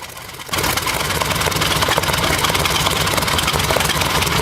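After a brief quiet moment, an old engine restored after 50 years starts up and runs steadily with a loud, rough, rapid chugging rhythm.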